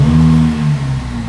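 A used supercar's engine idles and revs at close range, a deep steady rumble with harmonic drone that swells and dips slightly over a short stretch, heard alone without talk.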